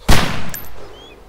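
A single gunshot in the video game DayZ, one sharp loud crack followed by a short decaying echo tail, heard alone without speech.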